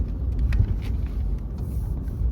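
A truck rolls slowly through the streets of an old ghost town, Thurmond, West Virginia, giving a steady low engine rumble and road noise, close and continuous with no talk.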